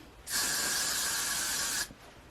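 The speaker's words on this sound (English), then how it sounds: "I'm just going to spray it really heavy" A single steady aerosol spray of hair glue hisses loudly for about a second and a half, then cuts off sharply.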